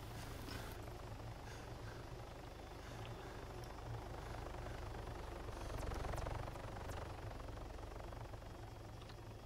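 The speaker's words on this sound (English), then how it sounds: "Okay, my helicopter bounced off the ground." Helicopter in the Arma 3 video game, a steady low rotor and engine drone holding throughout with a slight swell near the middle, no talk over it.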